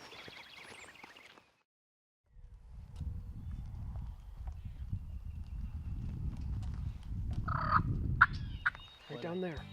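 Wild turkeys call and gobble at a farm near a barn during Missouri spring turkey season, the birds answering one another at a distance over a low rumbling background, with a brief quiet gap early on.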